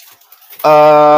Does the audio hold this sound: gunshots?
no